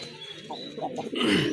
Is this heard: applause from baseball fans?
no